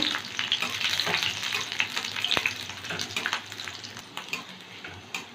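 Garlic cloves and four green chilies crackle and sizzle steadily in oil at close range, with occasional scraping clinks of stirring in the pan; no talking.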